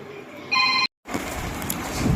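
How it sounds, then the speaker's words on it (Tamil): A phone ringing in a home, a short electronic tone pulse that cuts off abruptly, followed by a busy indoor background. "ஃபோன் அடிக்கிறது"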